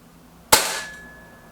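A single Kral Puncher Maxi or Reximex Accura air rifle fires one sharp, loud, close crack, then a short fading ring in a quiet setting.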